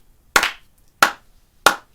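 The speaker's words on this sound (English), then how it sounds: "And like a sarcastic clapping." Three sharp, separate claps spaced evenly about two-thirds of a second apart, slow and deliberate like sarcastic applause, close and clear against near silence.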